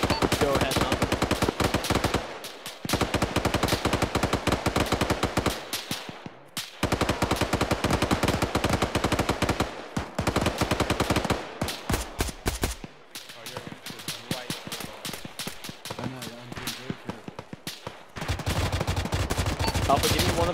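Light machine guns firing at a checkpoint in the military video game Arma. Loud, close, sustained automatic bursts rattle on for seconds at a time, separated by brief pauses.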